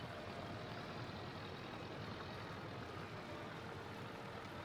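A truck engine hums with steady road rumble while driving along, a continuous, even drone with no breaks or voices, fairly quiet throughout.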